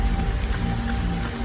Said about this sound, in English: It's 44 degrees and it's nice and rainy outside.